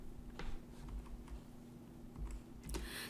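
Quiet, close keystrokes tapping on a computer keyboard while writing C++ code, a brisk irregular patter of individual clicks with a faint steady hum beneath.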